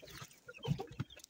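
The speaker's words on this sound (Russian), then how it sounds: "И курочка пришла уже." Soft, close clucking from a hen at a freshly bedded nest, a few short low clucks in quick succession, fairly quiet.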